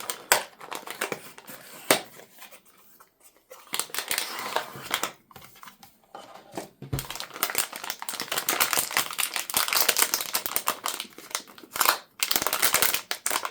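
Crinkling plastic and paper packaging from a Lian Li fan kit accessory hub being unboxed, irregular rustles and sharp crackles close up, with quiet pauses between bursts.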